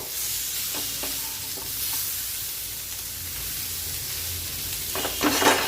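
Vegetables being stirred in a pan after a sprinkle of black pepper powder, with a steady low sizzle and a few soft scraping strokes of the spoon that grow a little louder near the end.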